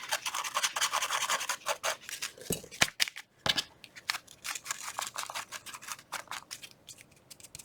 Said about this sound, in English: I'm going to rough up this edge along here where the ledger paper meets